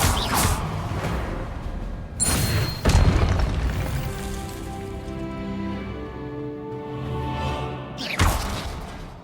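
Incendio fire spell cast in the Hogwarts Legacy video game, a heavy booming burst with a whooshing rush, followed by a lingering rumbling tail and a second impact near the end, no voices.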